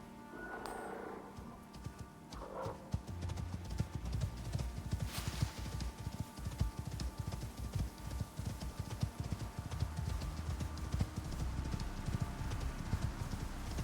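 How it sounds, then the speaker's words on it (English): Horse hooves clip-clopping in the survival video game Icarus, a steady rapid rhythm of hoofbeats running continuously and fairly loud over low ambient rumble, with no talking. "It's a lot quicker now that I have a horsey."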